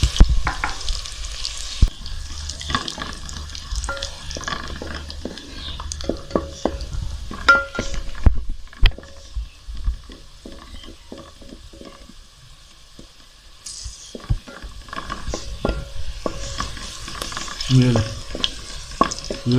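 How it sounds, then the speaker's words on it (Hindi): Onions sizzle and fry in a pan while being stirred, a steady crackle under repeated scrapes and clinks of a spoon against the metal, close and moderately loud, with no talk. "हम इसको ब्राउन कर लेते हैं प्याज को।"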